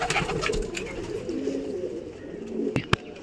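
Pigeons in a loft give low, rolling coos that repeat close by against a soft background hum, with a couple of brief knocks near the end.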